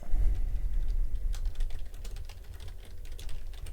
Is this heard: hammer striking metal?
no